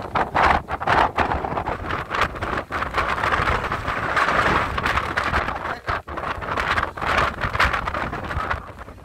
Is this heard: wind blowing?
yes